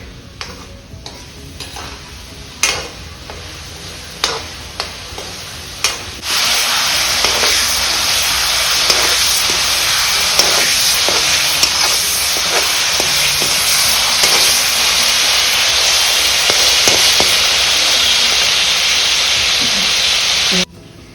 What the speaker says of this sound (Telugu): ముక్కలు వేగిపోయినాయండి, గిన్నెలోకి తీసేసుకుందాం